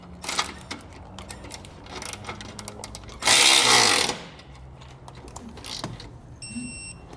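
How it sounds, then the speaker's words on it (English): An electric ratchet whirs in one short burst of about a second while snugging a bolt on a Roadmaster crossbar-style base plate on a 2021 Jeep Wrangler, surrounded by scattered clicks and metallic handling sounds. "we'll snug it up with our electric ratchet"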